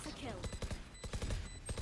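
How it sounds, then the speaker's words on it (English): A swarm grenade going off in Valorant, a burst of rapid sharp pops and small detonations in quick irregular succession, moderately quiet under game effects. "Placing swarm grenade. Swarm grenade out."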